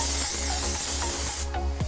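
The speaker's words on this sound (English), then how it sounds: "we have to make sure to spray this with non-stick spray" Non-stick cooking spray hisses onto a pan meant for a toaster oven, a steady close burst lasting most of the moment before cutting off, with a brief scrape at the end.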